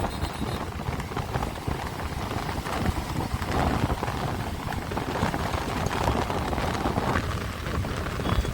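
A champion racing horse gallops across the open salt flats of the Rann of Kutch, its hooves making a continuous rapid, dense drumming and clopping under loud wind-like noise throughout.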